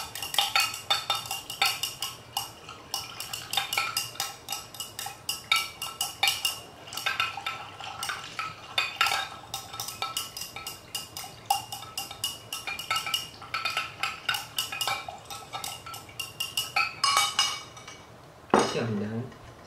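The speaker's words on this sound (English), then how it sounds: "Or you can shake it well." A plastic container holding a homemade face toner mixture is shaken, giving repeated rhythmic clinks and rattles that come in bursts and keep going throughout, loud and close.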